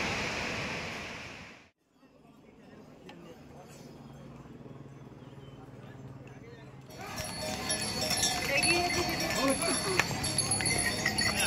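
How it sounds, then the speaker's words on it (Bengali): A mountain waterfall on the Kedarnath trek rushes in a broad, steady roar that grows louder and fuller toward the end, with people talking nearby. "দেখো ঝর্ণাটা কত সুন্দর বইছে, আওয়াজটা শুধু শোনো, এটাতেই মন ভরে যাবে।"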